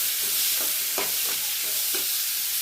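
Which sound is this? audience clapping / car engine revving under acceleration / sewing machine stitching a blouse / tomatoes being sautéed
tomatoes being sautéed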